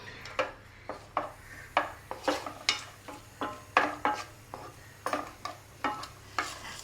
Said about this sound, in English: Let's fry this garlic till it sets out a nice aroma and turns to be slightly golden